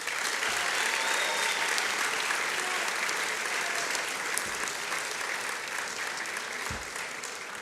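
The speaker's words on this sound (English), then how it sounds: "So one more time, round of applause for Vince Biondo." Sustained audience applause at a university awards ceremony, a dense wash of clapping that stays strong throughout and eases slightly toward the end, with no speech on top.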